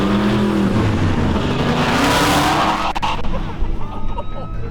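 Jeep rock crawler built for crawling climbs a trail obstacle at SMORR, with a steady engine drone and tire scrabbling over rock, loud and close, plus a brief scraping burst partway through.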